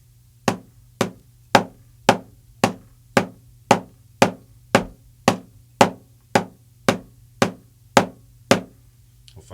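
Drum strokes played as steady eighth notes in double stroke roll practice, about sixteen crisp, evenly spaced hits over a sustained low hum, each one loud and close with no talking.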